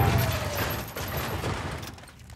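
An experimental shotgun fires in the video game Generation Zero, a dense burst of loud, close blasts running together.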